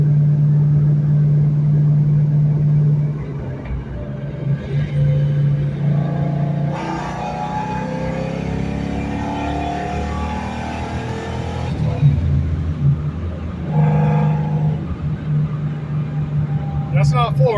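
A 2004 Ford Mustang Mach 1 with a shaker hood pulls at part throttle, its low engine rumble rising and settling throughout, close and steady, with someone talking over it much of the time.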